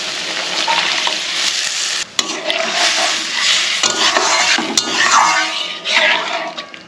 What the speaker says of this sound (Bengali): এদিকে কুমড়ো ভাজা হয়ে গেছে